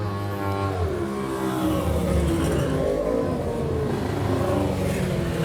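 Racing cars at the Ivor Thomas Memorial Meeting at Sittingbourne's Iwade circuit power down the straight, a steady, loud blend of revving engines that rises and sweeps past without a break.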